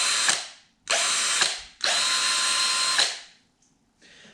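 A new power drill whirs in three short bursts, each spinning up sharply to a high whine and winding down, with brief pauses between and a faint final trigger pull.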